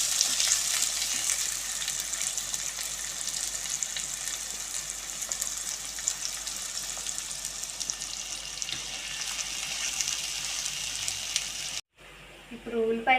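Onions with green chillies and cashews fry in a pan for a Telugu fish and kanda curry, a continuous close hissing sizzle throughout, then a brief cut and a short burst of other noise at the end.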